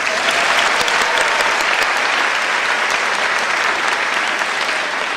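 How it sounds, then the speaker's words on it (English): Graduation audience at a college prep ceremony applauding, a loud, dense and steady roar of clapping from a large crowd that holds unbroken throughout. "How about a round of applause for Morgan Brown?"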